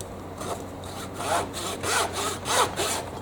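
A Zona 24TPI Japanese pull saw rasps through a large piece of wood, about six rhythmic strokes, each a close, bright scraping swell growing slightly louder toward the end, with no talking.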